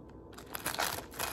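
Fresh cilantro leaves stripped off the stem by hand, a short burst of soft crinkling and tearing close to the ear.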